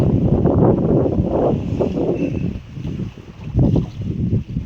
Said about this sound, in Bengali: ওরে বাবা, এই যা ঢেউ হচ্ছে